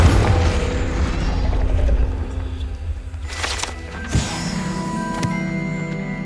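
A Confringo fire spell explodes in Hogwarts Legacy, a dull boom landing near the middle amid a dense rumbling game soundscape, followed by a sharp impact crack and lingering mechanical hum and rattles.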